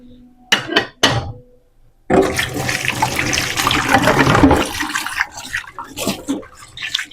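Dishes being washed at home under running water. A few short clatters come first, then a loud, close, continuous rush of water that eases toward the end.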